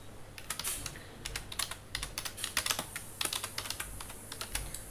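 Rapid typing on a computer keyboard as text is entered for a web page, with close, crisp key clicks in uneven bursts and brief pauses over a faint low hum, no voices.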